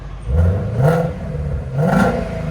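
A 2017 Ford Mustang GT350 with the 5.2L Voodoo V8, fitted with an X-pipe in place of the resonator and with its exhaust valves closed, gives two close, loud throttle blips that rise and fall in quick succession.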